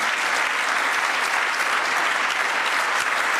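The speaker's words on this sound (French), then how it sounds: "espérer qu'on va être emporté comme ça par un tonnerre d'applaudissements" A dense, sustained wall of applause from a large audience at the Forum d'Avignon 2013 artistic performance, loud and even throughout with no pauses.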